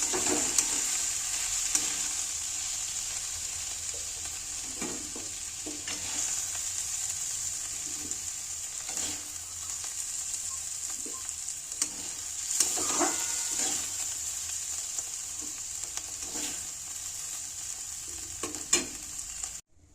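Mixed vegetables including cauliflower, beans, carrots and peas stir-fry in mustard oil in a wok, with a constant close hiss and frequent scraping, clattering stirs at an uneven pace.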